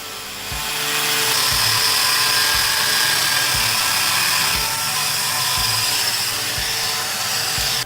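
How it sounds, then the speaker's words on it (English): A die grinder fitted with a shark bit bores a hole into a block of ice, a loud, steady high whine with rough grinding texture and faint periodic low knocks underneath, running continuously without speech. "I'll take my die grinder with this shark bit on it, a bit exclusively made for ice carving, and use it to bore out a hole"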